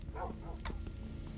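A dog barks in the Minecraft video game, giving a quick close pair of yapping barks over a low background hum.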